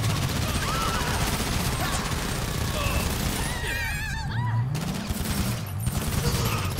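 Video game gunfire crackles as a dense, continuous fusillade of shots and booms. It runs nonstop under a steady wash of game noise with faint voice-like sounds mixed in.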